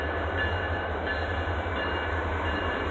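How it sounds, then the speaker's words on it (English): A train passing nearby at night beside an open-air park amphitheater in Roanoke, Virginia: a loud, continuous low rumble of rolling railcars with faint wheel squeal, close and steady throughout. "a loud sound, that's a train just to my right."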